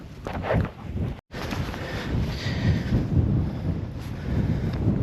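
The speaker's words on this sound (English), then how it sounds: "Windy morning." Strong wind gusts across the microphone on a mountain morning along the Appalachian Trail near Hump Mountain, on the Tennessee–North Carolina border, a steady close roar that builds and eases with a brief dropout.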